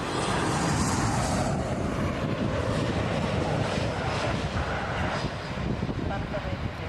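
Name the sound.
WestJet Boeing 737 MAX 8 arriving at Toronto Pearson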